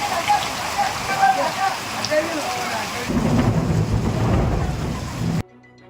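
Heavy monsoon rain pours down in Karnataka with rumbling thunder, a dense steady roar of rainfall that deepens and grows louder midway before cutting off abruptly near the end.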